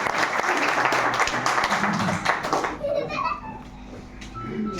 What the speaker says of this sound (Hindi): इनको भी तालियों से स्वागत।